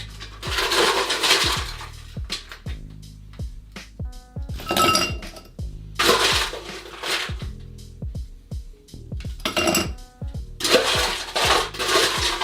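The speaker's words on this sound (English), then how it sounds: "What we're going to do now is fill the glass with ice." Ice cubes clink and rattle into a cocktail glass while a classic Bloody Mary is being made, with repeated bright clattering bursts scattered over several seconds, close and fairly loud, with no talking.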